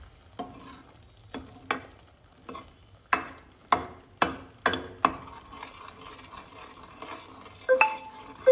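A ladle scrapes slowly through thick mushroom paste cooking in a kadai, giving a string of distinct metallic scrapes and knocks at an unhurried, uneven pace over a faint sizzle, with no talk.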